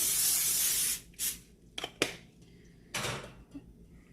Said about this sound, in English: I'm also going to spray the parchment paper so that if the eggs want to try to stick, they won't, hopefully